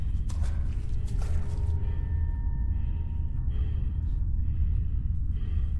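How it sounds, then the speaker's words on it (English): Heavy, rhythmic breathing fills a photorealistic horror game, a loud continuous low rasp with a few faint clicks and thuds over it. "Why can I hear breathing? I can hear breathing."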